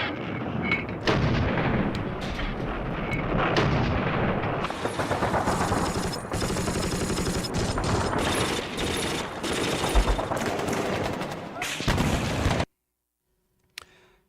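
Heavy MG-42 machine gun fire in war footage, dense and continuous with booming blasts layered in, loud for about twelve seconds before cutting abruptly to near silence with one faint knock.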